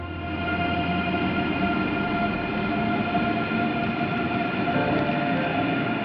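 Railway sounds at a German train station, a steady, loud rolling rumble of a train with a sustained mechanical hum, continuous and close, with no talking.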